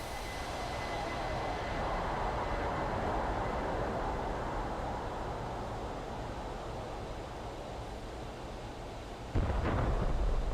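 Bombs released from an A-10C in DCS burst into a long, heavy rumbling roar that swells and slowly fades over the ongoing drone of the aircraft, followed by a sharp louder thump near the end.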